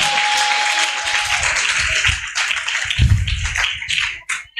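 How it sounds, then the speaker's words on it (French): Women cheering and clapping powerfully, a dense burst of claps and shrill voices rising and falling over a few seconds, loud and close. "Oh, les femmes acclament très fort."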